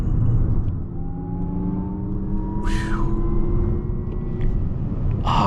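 A Lexus RZ450e electric SUV weighing about 4,600 pounds accelerates, with a steady low road rumble and a faint rising electric whine as it gains speed, heard from inside, with no talking.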